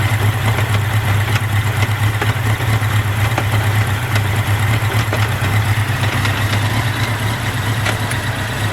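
A 1983 Honda Nighthawk 650 motorcycle engine runs in fourth gear, giving a steady, loud, unbroken drone with an even low hum and no pauses or voices.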